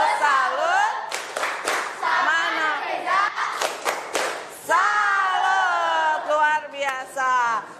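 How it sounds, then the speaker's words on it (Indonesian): Classroom students clap together in a brisk burst of applause, mixed with loud chanting voices that rise and fall throughout. "Oke, kasih tepuk salut."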